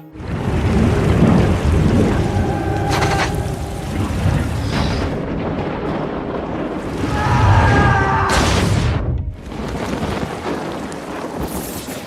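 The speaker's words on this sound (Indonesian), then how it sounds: "Ketika badai datang dan banjir mulai menggenangi tanah" Heavy rain pours steadily while deep rolls of thunder rumble and boom at intervals, with gusts of wind buffeting the microphone.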